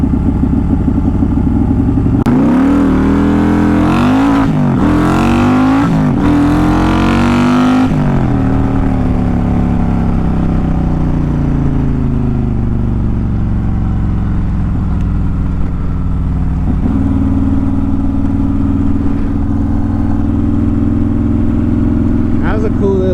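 A built Harley CVO motorcycle engine revs hard through a drag launch, rising sharply in pitch across several gear pulls before settling into a loud, steady drone as it rolls on.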